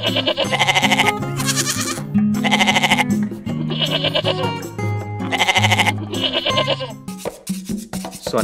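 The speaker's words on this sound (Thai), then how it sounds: "นี่ก็คือแพะนะจ๊ะองุ่น" Goats bleat loudly at a zoo in repeated long, wavering calls, several overlapping across the stretch, close by with no talk over them.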